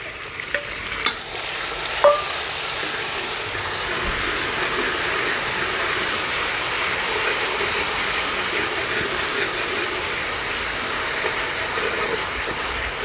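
Garlic and onion paste fries in a pan for potato sabzi, giving a steady, close broadband sizzle that holds evenly throughout, with a few light clinks of stirring near the start and no talking.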